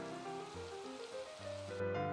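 Steady rain falling in the Minecraft video game, a soft continuous patter heard alongside layered synthetic tones, faint and unbroken before cutting off near the end.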